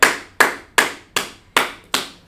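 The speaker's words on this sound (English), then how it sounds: "Let's clap it up, everybody." Six loud, evenly spaced claps, close and sharp, each decaying before the next in a slow unison rhythm from a group at a gathering, with no voices over them.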